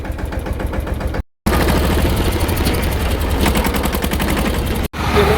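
A tractor engine runs at close range while filling a tank, a loud, rough, rapidly pulsing mechanical chugging that continues steadily apart from two short dropouts.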